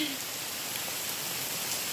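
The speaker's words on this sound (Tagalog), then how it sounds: "Parang maghapon na naman tong ulan na to." Steady rain hisses without a break, a dense, even patter with no voices.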